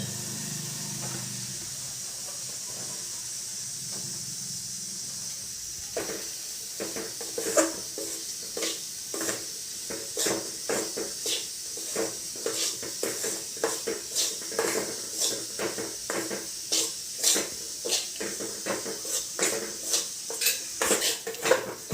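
Gram flour toasting in oil in a kadai, with a steady hiss joined after a few seconds by repeated scraping and clinking strokes of a spoon against the metal pan, close and fairly busy.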